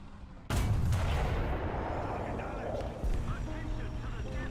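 Video game artillery: a sudden loud blast followed by a long rumbling decay, then a second lighter thump about two and a half seconds later, with voices talking underneath.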